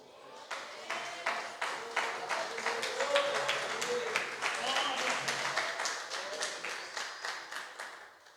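A church congregation claps steadily in rhythm for several seconds, a dense run of even beats at a moderate distance with no voices standing out.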